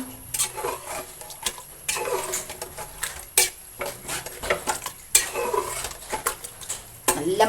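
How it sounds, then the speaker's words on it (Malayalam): A spoon stirring salt into thick chicken curry in a copper pot over a wood fire, making repeated close scraping clatters against the metal in an uneven rhythm, with no voices. "നമ്മൾ ഇതിലേക്ക് ഉപ്പിട്ട് കൊടുക്കുകയാണ് നല്ല പോലെ ഒന്ന് ഇളക്കി"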